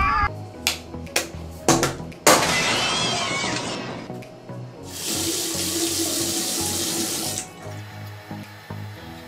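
A bathroom tap runs water into a sink for face washing, starting with a few splashes and clinks, then a steady hiss of flowing water in two bursts, close and fairly loud, with no speech.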